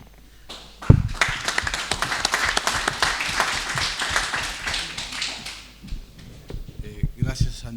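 A lecture-hall audience at an academic book presentation bursts into applause, a dense, loud spread of claps that holds steady for several seconds before thinning into scattered claps, with a voice speaking near the end.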